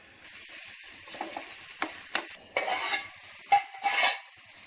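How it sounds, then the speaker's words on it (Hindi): Chopped onions frying in a pan for Konkani dry shrimp chutney, a steady close sizzle with a few spoon scrapes and stirring bursts, no voices. "ये 2-4 मिनट मैंने भून ली अपने प्याज को"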